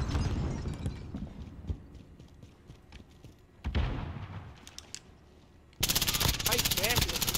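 MP7 submachine gun fire in a Modern Warfare Search and Destroy match, with rapid bursts of shots, footsteps and game noise, then a loud dense stretch of fire near the end, with a player talking over it.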